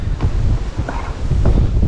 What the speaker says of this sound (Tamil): பயங்கரமாக காற்று அடிக்குது